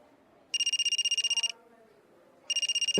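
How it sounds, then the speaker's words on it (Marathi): A telephone ringing with two bursts of rapid electronic trilling, each about a second long and separated by a pause, heard clearly in a quiet indoor room. "गार्गीचा फोन आहे."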